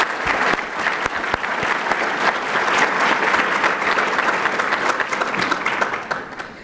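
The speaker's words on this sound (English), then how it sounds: "Let's give them all a big round of applause." Loud, sustained applause from a crowd at an evening Entrepreneur of the Year awards event, dense clapping for several seconds before it begins to thin out and fade at the end.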